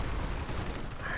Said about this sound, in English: It has a very fast machine gun